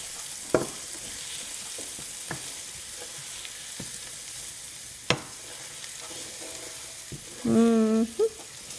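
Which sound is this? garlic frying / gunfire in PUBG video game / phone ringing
garlic frying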